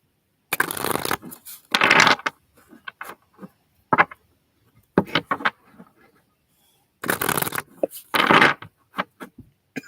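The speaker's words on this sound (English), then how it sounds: "I'm just gonna shuffle these." Tarot cards are shuffled close by in several crisp bursts of riffling and rustling, separated by quiet pauses, with no talking.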